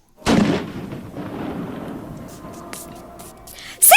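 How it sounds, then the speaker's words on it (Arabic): Ceremonial Eid cannon firing: a loud, deep boom that rolls into a long reverberating rumble, followed by the start of another blast. "ضرب مدفع العيد"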